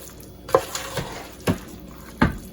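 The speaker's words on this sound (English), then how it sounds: "let me stir this up first, see what we're working with" Spoon stirring pulled pork in a slow cooker: three distinct scraping knocks against the pot, spaced about a second apart, close and fairly quiet over a faint background hum.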